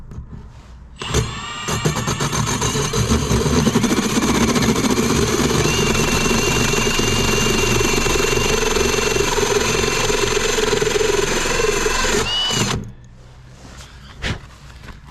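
Drilling a hole from outside through a garage wall for a 200 amp electrical panel, a loud steady power-drill whine running about eleven seconds before cutting off, with a short knock afterward.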